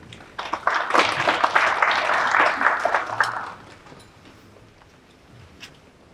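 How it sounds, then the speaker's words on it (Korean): A conference audience applauds a speaker for about three seconds, a dense burst of clapping that quickly fades to scattered claps and room quiet. "박수 부탁드립니다."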